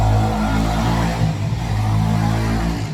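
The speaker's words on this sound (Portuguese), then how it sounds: "Esperar essa moto." A motorcycle passes close by, its loud engine droning steadily for a few seconds with a slight dip and swell in pitch as it goes.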